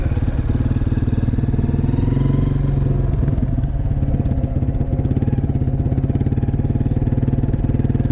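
A motorcycle engine runs steadily and loudly up close while riding figure eights in snow, a continuous throbbing drone with slight rises and falls in pitch.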